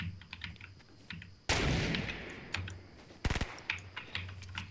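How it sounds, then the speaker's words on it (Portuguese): Gunfire in Fortnite cracks out as a sharp blast followed by a quick burst of rapid shots, set against constant computer keyboard clicking from nearby play. "tô escutando tiro"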